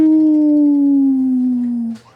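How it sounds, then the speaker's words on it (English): A single long howl, wolf-like, holding a clear sustained tone that slowly slides lower before cutting off, with a faint brief sound right at the end. "you start to hear the sounds of howling in the distance."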